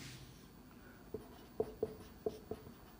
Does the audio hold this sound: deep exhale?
no